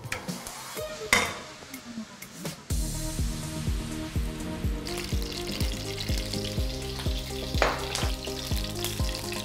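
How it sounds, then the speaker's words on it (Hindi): Chutney with chopped garlic and green chili being sautéed in a pan, a loud frying sizzle that begins abruptly after a few clinks, with rhythmic scraping strokes of stirring beneath it. "अब चटनी को भूनना शुरू करते हैं।"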